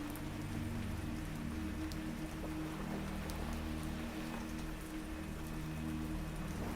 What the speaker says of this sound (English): The steady tapping from earlier has thinned into occasional droplets against the glass.